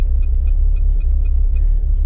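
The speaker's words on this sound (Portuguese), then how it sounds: "Eu vou dar uma partida aqui agora" Idling engine of a VW Gol GTS turbo street car, a steady low rumble close by with a faint rhythmic ticking repeating about four times a second, with no voices.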